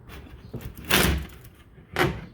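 Back door panel of an arcade cabinet handled in a woodshop: two distinct wooden bumps and scrapes about a second apart, fairly close, with quieter knocks between.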